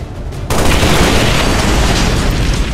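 A purifier tank explodes in XCOM 2 with a sudden loud blast after a short quieter lead-in. A dense, roaring wash of debris and rumble then sustains for the rest of the moment.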